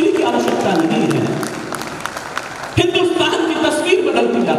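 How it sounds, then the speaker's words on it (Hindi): Audience applause at a Hindi poetry recitation, a dense wash of clapping that holds steady, dips briefly, then surges again, with voices mixed in among the crowd. "पगड़ी के सम्मान में आप जोरदार तालियां बजा दी"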